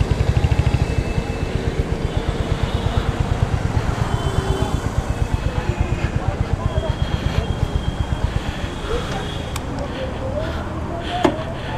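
A Royal Enfield Hunter 350 motorcycle engine idles with a steady, rapid thumping exhaust beat, rumbling continuously and close by, with a brief sharp click near the end.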